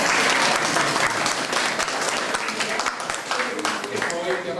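Audience applause honouring Mauro, the restorer of the Tualis crucifix, at a gathering marking the restoration: dense clapping from a crowd, loud at first and easing slightly, with some murmuring voices mixed in.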